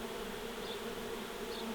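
Honey bees swarm around a catch box during a hive removal from a garage wall, a steady, close buzzing drone that holds at an even level throughout with no talk.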